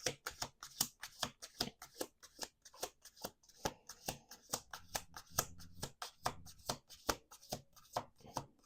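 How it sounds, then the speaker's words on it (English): Tarot cards being shuffled by hand, a quick run of crisp riffling flutters and soft taps in a steady rhythm, close and fairly quiet, no talking. "Okay, 2 more shuffles."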